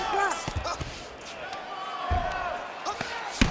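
Ground-and-pound strikes from a UFC 5 fight land as repeated dull thuds and slaps in quick bursts, under crowd noise and ongoing commentary.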